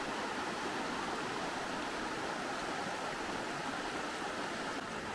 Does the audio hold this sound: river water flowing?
yes